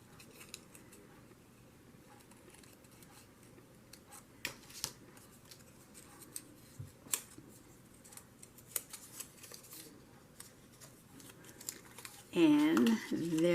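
Scissors cut folded paper at a desk, giving a string of short, soft snips and crinkles. Near the end a voice speaks briefly.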